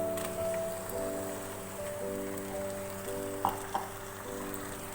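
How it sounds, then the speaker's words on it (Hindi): Half a kilo of boneless beef frying with onion, garlic and ginger in a pan on a high flame, a steady close sizzle and crackle with a couple of louder pops, under a sustained musical background. "गोश्त को हाई फ्लेम पे अच्छी तरह से भूनेंगे।"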